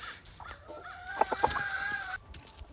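Backyard chickens and roosters, with one rooster crowing in a long drawn-out call amid scattered nearby clucks and chatter from the flock.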